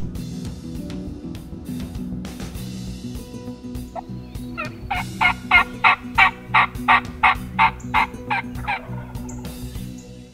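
A wild turkey gobbles in a rapid run of about a dozen loud, evenly spaced pulses over steady outdoor background noise, heard from a hunting setup on public land.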